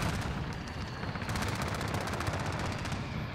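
Rapid automatic gunfire in the video game Modern Warfare, dense repeated shots in continuous bursts with sharp cracks, loud and close without talk.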